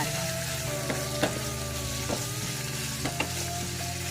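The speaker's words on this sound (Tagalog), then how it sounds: "So, lutuin lang muna natin yung shrimp guys." Shrimp sizzles steadily in a hot pan, a continuous close frying hiss with occasional soft clinks and stirring knocks from a utensil.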